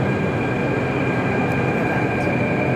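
A Delhi Metro electric train running through an underground station toward Kashmiri Gate, a steady loud rumble and whine of wheels and motors, close by, with a faint high squeal and no talking.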